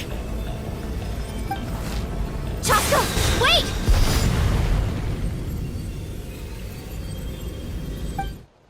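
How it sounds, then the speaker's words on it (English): A glowing stone explodes in the Genshin Impact video game, a loud booming blast with a whooshing burst and crackling debris, then a fading rumble that trails off into quiet. "You were all caught in the shockwave of the explosion."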